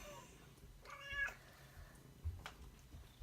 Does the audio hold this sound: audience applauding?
no